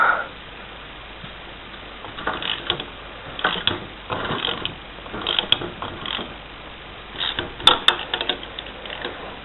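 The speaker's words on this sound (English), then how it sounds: "We need that wrench. I think it's pretty much rusted in there." A wrench works a rusted fitting on a fertilizer auger being rebuilt, giving irregular bursts of metallic ratcheting clicks and creaks between quieter pauses, close by with no speech.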